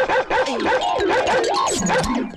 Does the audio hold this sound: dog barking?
yes